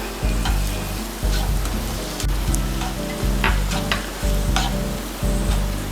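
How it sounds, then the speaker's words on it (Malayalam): Diced tomatoes are sautéed in masala in a pan for butter chicken. A loud, steady sizzle runs throughout, broken by rhythmic stirring strokes about once a second, with no talking. "ടൊമാറ്റോ കൂടി ചേർത്ത് നന്നായിട്ട് വഴറ്റിയെടുക്കുക."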